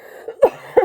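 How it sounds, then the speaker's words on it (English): A woman coughs twice in quick succession, each a sharp close burst about a third of a second apart, preceded by a faint throat catch, in a quiet room with no other sound. "I'm sorry, I have to cough."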